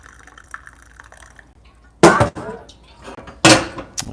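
Water poured for pour-over coffee alongside a Rancilio Silvia espresso setup, heard as two short, fairly loud bursts of liquid splashing into a vessel after a quiet stretch of faint background clinks.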